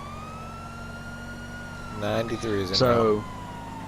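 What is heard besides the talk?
police car siren in video game LSPDFR (GTA V mod)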